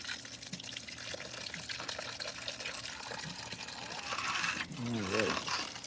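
A garden hose pours water onto a plant on a very hot day, giving a steady hissing splash that swells louder toward the end, with a voice talking over it.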